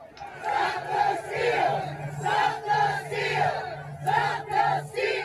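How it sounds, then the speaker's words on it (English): A mob of rioters on the east side of the US Capitol roars and chants in rising and falling waves of shouting, a dense crowd heard at a distance. "Here's what that crowd looks like on the east."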